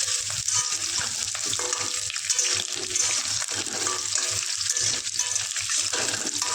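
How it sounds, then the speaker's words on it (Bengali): Potatoes for a mutton curry fry in a pan, giving a loud, continuous close-up sizzle with a dense bubbling hiss that never lets up. "আর এইদিকে খাসির মাংসের আলুটা ভাজা হচ্ছে"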